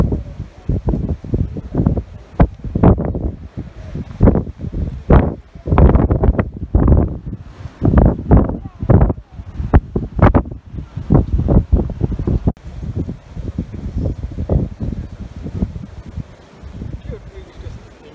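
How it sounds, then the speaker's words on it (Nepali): Strong gusty wind at a hilltop lookout above Wollongong, buffeting the microphone in repeated heavy rumbling bursts and whooshes that rise and fall throughout, with brief talk mixed in. "कस्तो हावा चलेको आज. वाइन्डी वाइन्डी एन्ड क्लाउडी."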